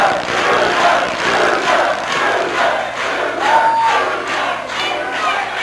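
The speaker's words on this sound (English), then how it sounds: "Listen to that crowd roar." A wrestling arena crowd roars steadily and chants in rhythmic swells at a match featuring Ric Flair and Dick the Bruiser, loud and dense throughout with no clear speech.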